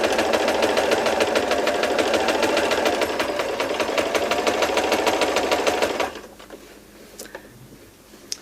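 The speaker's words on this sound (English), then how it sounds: "So I'm going to move to step 2 and then start sewing again." A sewing machine stitches an earphone tidy, running steadily and loudly at close range for about six seconds before stopping, followed by quiet handling noises.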